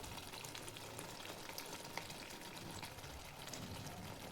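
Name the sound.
spices frying in oil for masala bhindi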